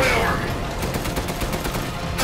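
Video-game gunfire from Resident Evil Village: a fast burst of repeated shots over loud, dense background noise, with a sharp hit at the end.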